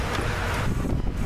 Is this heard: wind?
yes